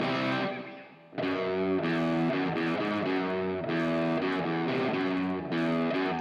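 Distorted electric guitar strums two sustained chords, E then C, the first briefly then a short break, followed by a longer ringing chord with rhythmic restrikes.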